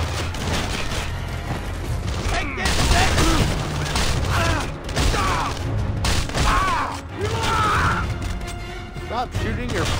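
Rapid bursts of gunfire rattle through a firefight in the video game Splinter Cell Conviction, mixed with shouting voices and in-game chatter over a busy background.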